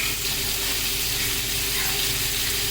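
Marinated chicken tikka pieces sizzle and fry steadily on a hot tawa griddle, a dense, even hiss close up with no break.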